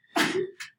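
One sharp, close sneeze with a brief breathy tail and a small second burst right after, otherwise quiet.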